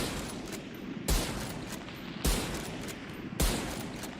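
Three loud, evenly spaced scoped rifle shots in the video game Valorant, each a sharp broadband crack followed by a brief decay over a steady game-ambience background, with no talking.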